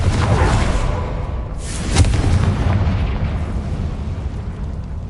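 A Confringo fire spell explodes in Hogwarts Legacy, a loud, dense blast with one sharper burst partway through, followed by a sustained rumbling roar.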